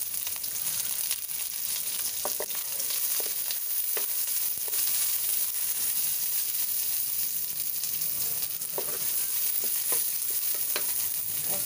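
White and red onions fry in a pan for pork binagoongan, giving a steady, close sizzle with light crackles and occasional stirring scrapes. No voices are heard.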